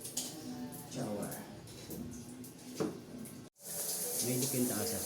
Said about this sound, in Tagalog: Overhead shower.